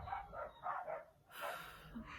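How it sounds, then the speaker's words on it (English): Several dogs bark back and forth from nearby houses and yards, a neighbour's pit bull among them, in two short bursts of yapping, moderately loud and slightly distant, with a brief pause between. "We're surrounded by dogs, and they all get barking at each other sometimes."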